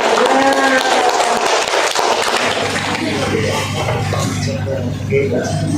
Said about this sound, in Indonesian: Tepuk tangan dong Mas Oli Huda